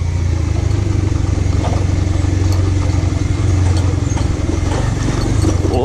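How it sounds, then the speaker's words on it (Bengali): A motorcycle rolls down a slope toward the water at Lalakhal in Sylhet, its engine giving a steady, close, loud low rumble with light rattling throughout and no talking. "এখানে একবারে নিচে নামাই দিতেছি বাইক"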